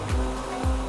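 Short tire-skid bursts from a Vauxhall Corsa C in GTA's casino heist, two quick low squeals over a steady engine hum, moderately quiet and without voices.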